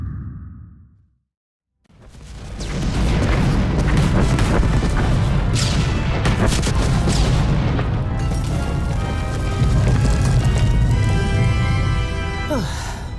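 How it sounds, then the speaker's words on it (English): Bomb detonations inside a collapsing tunnel in Star Wars: The Old Republic, a loud deep boom followed by a long rumbling roar of falling debris and crackling blasts that fills the rest of the scene. "One more bomb, just to be sure."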